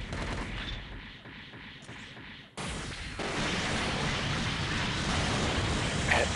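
Beam rifle fire from the Gundam F-91 in the SDGO video game, a dense steady barrage of rapid shots that drops briefly, then returns louder and more continuous, up close with no talking.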